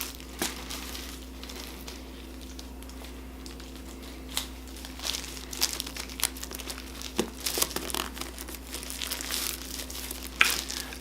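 Cellophane wrapping on a hardcover book crinkles up close, quiet at first and then in louder bursts of crackling that grow busier toward the end.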